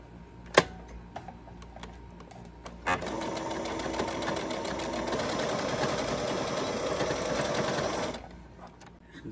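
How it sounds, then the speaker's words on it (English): A sewing machine stitches down a seam on a patch, a steady close-up whirring run of about five seconds after a sharp click, then winding down to quiet. "I'm gonna just sew it down, sew the seam down."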